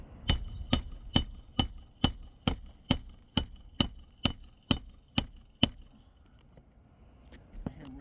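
A hammer strikes a nail about thirteen times in a steady, quick rhythm, each blow sharp and ringing, then stops, followed by a single softer tap.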